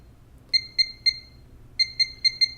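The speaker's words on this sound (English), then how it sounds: "it will beep at me with the jerk alert" A jerk-alert shooting trainer emits short, high electronic beeps: a group of three evenly spaced, then a pause, then a faster run of six, clear and close against a quiet background.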